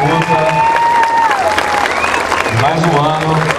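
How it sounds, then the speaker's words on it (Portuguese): A crowd at a Christmas cantata performance for children gives a salvo of applause, with clapping mixed under sustained singing or melodic voices and cheering throughout. "salva de palmas"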